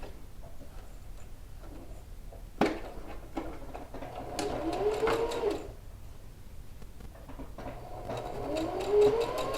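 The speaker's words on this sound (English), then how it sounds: "So I'll take this to the machine and stitch down a 1/4 inch." Sewing machine stitching a quarter-inch seam on a wrap dress, soft rapid mechanical whirring in short bursts with clicks and pauses between, fairly quiet and close, no talk.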